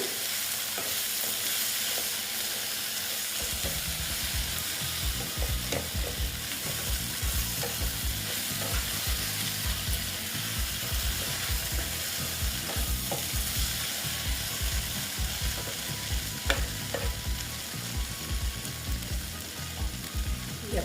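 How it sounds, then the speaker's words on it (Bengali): Besan-coated okra with green chilies stirred and fried in a pan: a steady close sizzle throughout, with frequent scraping and clinking of a spatula against the pan. No one speaks. "এটাকে আবার একটু নেড়ে চেড়ে নিচ্ছি ভেজে নেব"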